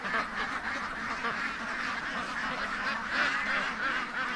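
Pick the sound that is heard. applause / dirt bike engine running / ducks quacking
ducks quacking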